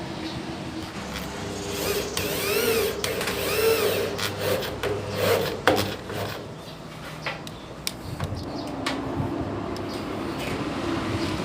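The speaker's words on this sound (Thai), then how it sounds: "แล้วก็ใช้สกรูนะครับ ยิงเข้าไปนะครับ" A power screwdriver drives screws into a smooth ceiling board during a home ceiling installation, giving a steady whirring motor sound with rising and falling pitch sweeps and a few sharp clicks over background noise.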